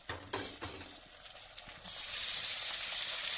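Pork meat dropped into hot oil with already-browned onions, setting off a loud, steady sizzle that swells after a few stirring knocks and keeps hissing close by.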